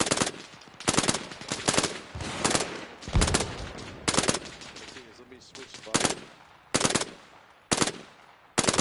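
Video-game gunfire aimed at a BRDM armored vehicle: loud, bright bursts of automatic fire repeat every second or so, some short and some sustained, with quieter stretches and occasional voices between them.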